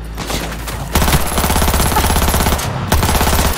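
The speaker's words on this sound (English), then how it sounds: "Heard shots." Rapid automatic gunfire in the video game Cyberpunk 2077, loud, close bursts of fast repeating shots running almost continuously, with brief breaks between volleys and no speech.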